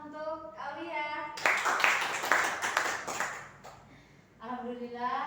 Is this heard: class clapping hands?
yes